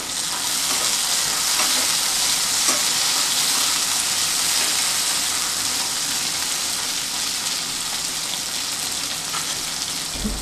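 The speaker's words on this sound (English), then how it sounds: "Add chopped tomatoes and fry well till the mixture starts separating from the oil." Chopped tomatoes fry in oil with a loud, steady, rain-like sizzle that stays even for the whole stretch. Faint scrapes occasionally show through the hiss.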